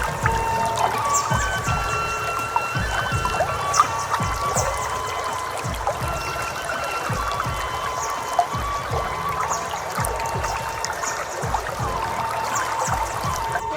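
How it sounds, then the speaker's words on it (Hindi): A river flowing and babbling through dense forest near a hermitage, a steady broadband wash of water with small trickling splashes throughout, fairly close and continuous with no voices. "कल कल बहती नदी।"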